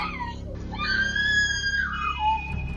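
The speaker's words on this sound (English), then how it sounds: "That scream will echo in my head for many years." A man screams in a long, loud, wailing cry that rises and wavers for nearly three seconds, with a rough background underneath.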